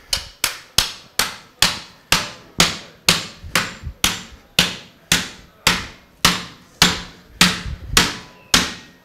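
A cooper's hammer drives the cap hoop down on a Jameson whiskey barrel at a bar show, landing about seventeen sharp, loud metallic blows in a steady, even rhythm, each ringing out briefly before the next.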